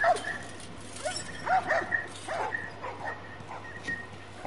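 Several dogs in a video game bark and whimper, giving short yips and high whines in uneven bursts over a constant low hum.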